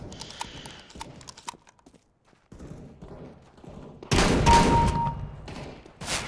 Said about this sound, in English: When in doubt, just keep shooting.